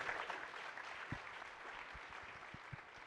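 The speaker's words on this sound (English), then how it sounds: "give them one more round of applause now that we're all out here" An audience applauds at a seminar of millionaire students, a quiet, distant patter of clapping with a few sharper claps standing out near the end.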